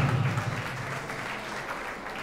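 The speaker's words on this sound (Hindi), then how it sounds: "जोरदार तालियों से स्वागत कीजिएगा हमारे शहर उस्ताद जनाब हाजी मंसूर साहब का" At a pigeon flying cup prize distribution in Moradabad, an audience claps to welcome a guest, a soft, steady patter of applause with a low hum underneath, brief and moderately distant.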